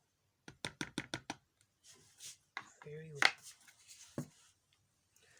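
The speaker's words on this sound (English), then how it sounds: "I'm going to stir it very well" Stirring a mixture after adding 50 grams of kaolin: a quick run of sharp, evenly spaced taps and clicks up close, then scraping and scattered knocks, with a voice briefly in the middle.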